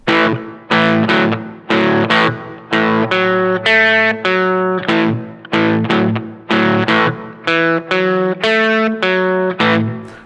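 An effects-laden electric guitar picks a slow blues rhythm riff, an unhurried sequence of notes, each one loud and left to ring out before the next.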